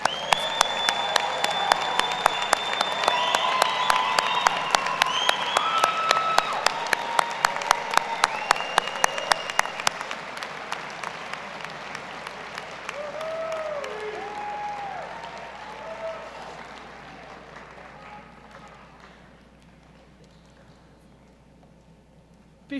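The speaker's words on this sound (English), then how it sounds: "One more round of applause." Audience applause at a college of health sciences graduation convocation, a large hall full of dense, sustained clapping that gradually thins and fades over about twenty seconds, with faint crowd murmur underneath.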